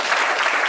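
An audience at a motivational workplace talk breaks into applause, a short dense burst of clapping.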